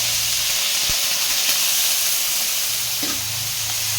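Cut potatoes fry in hot cooking oil in a heated pan while a Filipino pork giniling dish is prepared, giving a steady, close, dense sizzle and hiss with no talking.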